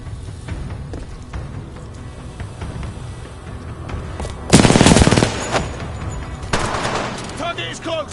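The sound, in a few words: gunfire in the video game Titanfall 2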